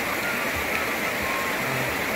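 Stream water flowing past a stone footbridge at a riverside campground in the early morning, a steady broadband rushing and gurgling, moderately close and continuous, without voices.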